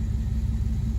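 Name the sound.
Ram pickup truck engine idling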